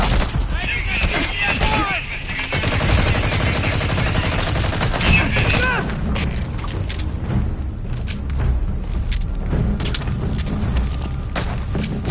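Unsuppressed gunfire in the Metal Gear Solid video game: bursts of loud, sharp shots over the first six seconds, then sparser reports and game noise, with some in-game voice mixed underneath.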